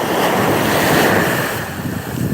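Ocean waves wash onto a sandy shore in a loud, continuous roar that swells and eases, with heavy wind buffeting the microphone and no voices.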